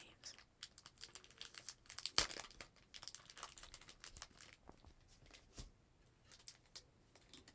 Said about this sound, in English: Just opening up a new package of card sleeves.